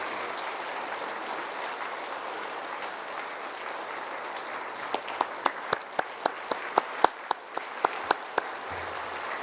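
A congregation at a Sunday worship service claps for a young adults' fellowship group, starting as a soft, diffuse patter of many hands and ending in a run of sharper, distinct individual claps.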